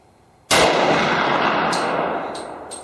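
A single loud, close gunshot from a Glock 32 with a 4-inch barrel firing a 125-grain Underwood .357 SIG Gold Dot round, a sharp crack followed by a long ringing decay.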